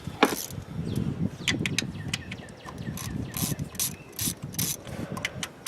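A hand ratchet clicks in quick irregular bursts while loosening valve cover bolts on an engine, close and fairly loud, with short pauses between runs of ratcheting and no speech.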